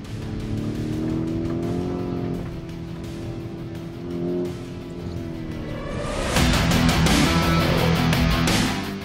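A 2023 Lamborghini Urus Performante SUV runs out on the Bren Raceway track, its engine droning steadily before swelling into a louder, harsher roar during the final few seconds.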